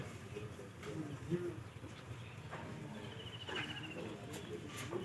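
A domestic pigeon coos softly in a few short, low calls over quiet background hiss and insect chirps, sounding faint and fairly distant.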